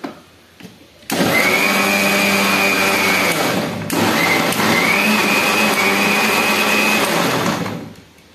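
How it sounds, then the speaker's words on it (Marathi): An electric mixer churns cream into butter with a loud, steady whirring drone that starts abruptly after a quiet lead-in. It cuts out for a moment, restarts at the same pitch, then stops near the end. "मिक्सर लावलेला आहे।"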